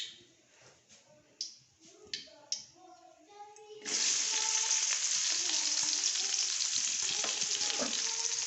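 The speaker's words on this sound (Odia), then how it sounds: "ବର୍ତ୍ତମାନ ମସଲା କଷା ହେବ।" Spices fry in oil for a mushroom curry. A few light clinks and taps come first, then a loud, steady sizzle bursts in and hisses continuously to the end.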